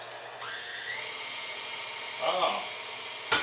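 A small kitchen meat grinder, used while making sliders, whirs with a thin high motor whine that rises in pitch as it speeds up, close and moderately loud, with a brief louder grinding burst near the end.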